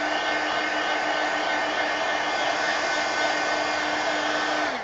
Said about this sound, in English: let me hit this with a heat gun